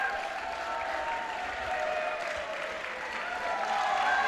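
A crowd applauds and cheers in the stands at a veterans' judo world championship bout in Amsterdam, a continuous roar of clapping and shouting that swells slightly toward the end.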